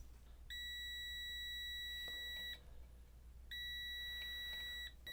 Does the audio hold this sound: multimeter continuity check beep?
yes